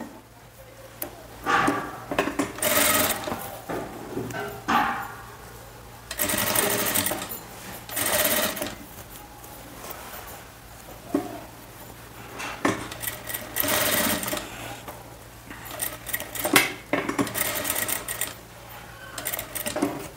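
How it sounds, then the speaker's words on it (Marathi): A sewing machine stitching a boat neck blouse runs in repeated bursts of rapid mechanical whirring and clatter, stopping and restarting several times close by, with a steady low hum underneath. "या साईडने दाब शिलाई देणार आहोत आपण"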